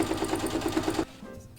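A sewing machine stitching a zipper onto a canvas tote bag runs in a fast, even mechanical whir for about a second, then stops abruptly, leaving quiet.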